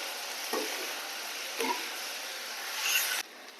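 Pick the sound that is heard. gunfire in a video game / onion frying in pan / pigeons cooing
onion frying in pan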